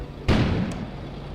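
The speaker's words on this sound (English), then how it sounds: "An explosion suddenly occurred outside." A sudden broadband boom bursts out in the Kona video game, a single loud explosion heard from outside that decays into a rumbling tail, with a faint brief echo shortly after.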